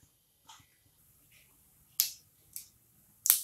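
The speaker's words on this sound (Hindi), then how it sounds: "आप सुन सकते हैं जीरा में चटकने की आवाज आने लगी है।" Cumin seeds crackling in hot oil in a kadai give three sharp, isolated pops about half a second apart, preceded by a few fainter, softer crackles, with no talk.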